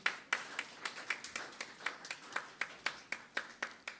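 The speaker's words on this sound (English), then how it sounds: "he is clapping for that" At a political rally unveiling development plans, someone claps by hand in a steady, evenly spaced rhythm of about four claps per second, sharp and fairly close, with no voices over it.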